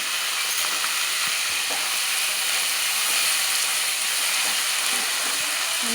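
Green chillies, fenugreek leaves and spring onion greens fry in hot oil with a tempering of mustard seeds, urad dal and cumin, giving a steady, bright sizzle with faint crackles throughout and no talking.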